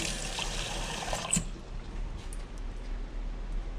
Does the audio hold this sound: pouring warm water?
yes